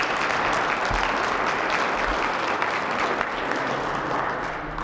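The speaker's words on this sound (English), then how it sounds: "Let's give our panelists a big, big round of applause." Forum audience applauding a panel of speakers, sustained even clapping from a sizable crowd that holds steady for several seconds before easing slightly at the end.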